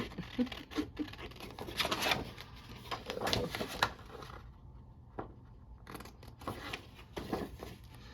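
Quiet scissors snip and slice through paper in short irregular bursts, cutting out page topper tabs for Christmas journals, with soft rustling between cuts and a brief pause in the middle.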